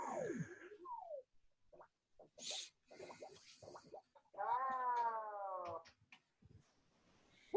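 A cat gives scattered short chirps and squeaks, then a longer, strained meow, with soft rubbing and rustling noises in between and quiet gaps, heard up close.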